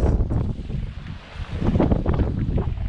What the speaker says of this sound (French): Ça va pas être facile parce que le vent est fort.